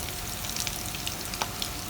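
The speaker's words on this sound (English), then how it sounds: "koftas are shallow fried, but I find that it helps if you keep basting them with oil" Mutton koftas shallow fry in oil with a dense, steady sizzle, close and loud, broken by small pops and crackles, with no voices.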